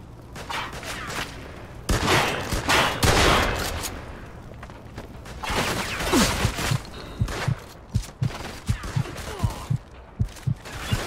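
Shotgun gunfire from the Mafia 2 video game: a dense, chaotic firefight with loud overlapping blasts, followed by a run of sharp, evenly spaced single shots near the end.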